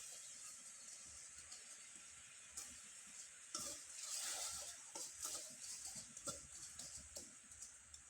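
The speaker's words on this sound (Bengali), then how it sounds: "এবার একটা চামচের সাহায্যে হালকা করে একটু নেড়ে চেড়ে দিব আর গুড়টা একটু গলে যাওয়া পর্যন্ত অপেক্ষা করে নেব।" A spoon stirs jaggery and water in a pan over heat, giving a faint, soft bubbling hiss with light scraping strokes in the middle, quiet and close with no talking.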